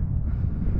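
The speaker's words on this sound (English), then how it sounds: "It's too windy" Strong wind buffets the microphone outdoors under a cloudy sky, a steady low roar across the whole short stretch with no voices.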